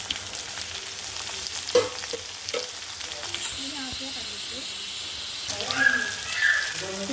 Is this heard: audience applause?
no